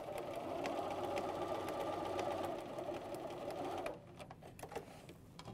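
A sewing machine lock stitches a fabric potholder with a fast, steady mechanical whir that stops abruptly near the end, followed by a few faint clicks and handling sounds.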